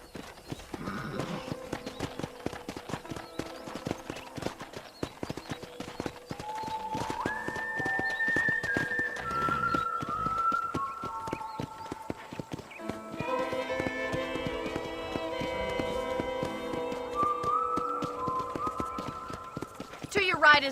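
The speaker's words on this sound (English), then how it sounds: "let's see if you can still ride a horse" Horse hooves clip-clopping at a riding pace in the Red Dead Redemption video game, a steady rhythm of close hoofbeats running under music and people talking.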